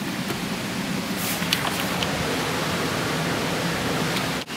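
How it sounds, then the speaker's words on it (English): A river flows outside an open door on a dark night in rural Scotland, a steady broadband rush of water that stays even and fairly close throughout, with no voices over it. "if I open the door, you can hear the river outside"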